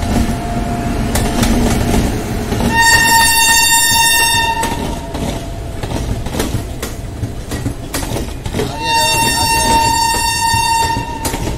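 A WAP7 electric locomotive hauling the New Delhi Una Himachal Jan Shatabdi Express with a low-raised pantograph crosses an old bridge, sounding a loud multi-tone horn twice over the steady rumble and clatter of the passing train.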